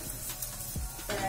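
A flipped paratha sizzles faintly in oil on a pan, with a soft, brief hiss and a few light scrapes, close but low in level.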